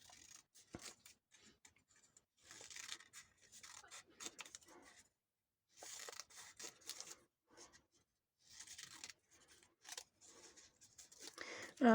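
Scissors snip through paper to cut flower petal journal cards, with quiet bursts of cutting and rustling between pauses, close and soft.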